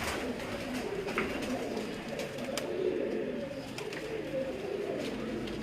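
Pigeons coo steadily from a rooftop loft in Faisalabad, a low continuous burble of many birds close by, with faint distant background noise throughout.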